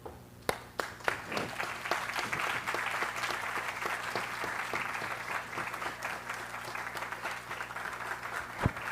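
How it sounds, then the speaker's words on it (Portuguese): A standing audience, council members among them, applauds students after a school presentation on UN sustainable development goals, with dense sustained clapping and a few sharp individual claps near the start and end. "em pé, aplaudirmos esses alunos"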